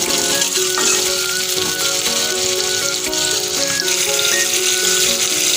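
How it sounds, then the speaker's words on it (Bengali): Cut potatoes fry in hot oil, a loud continuous sizzle heard close up with music running beneath it and no talking. "এবার আমি কেটে রাখা আলুগুলো আমি ভেজে নেব তেলের ওপরে"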